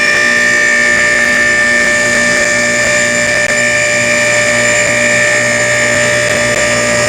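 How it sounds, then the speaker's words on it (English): A vehicle lift runs loudly in a car repair shop, a steady whining mechanical hum with a grinding pump tone held throughout without a break. "Sorry about the lift noise,"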